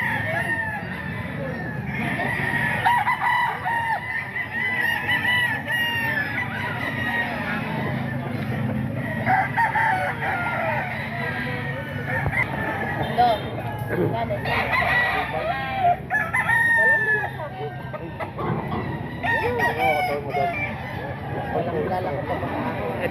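A rooster at a crowded market bazaar crows repeatedly amid steady crowd chatter and people talking nearby, its calls rising clearly above the busy background.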